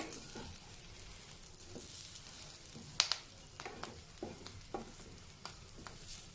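Green chillies with ajwain fry in a pan, a steady soft sizzle broken by scattered sharper pops and stirring scrapes, close and moderately quiet, with no voices.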